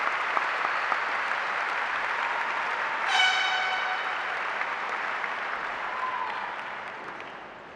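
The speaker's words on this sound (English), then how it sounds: "Please give them another round of applause." Sustained applause from a large graduation crowd at Logan County High School fills the hall evenly, with a short whistle-like tone near the middle before the clapping gradually tapers.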